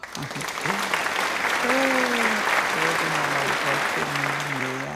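Sustained clapping from a group, encouraging children as they put up a Christmas tree, runs loud and steady through the whole stretch while voices talk over it.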